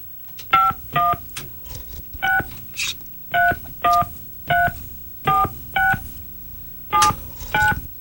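A telephone number dialed on a touch-tone keypad, about a dozen short, loud, clean beeps in a steady stop-start rhythm, sometimes in close pairs, alone over a quiet line.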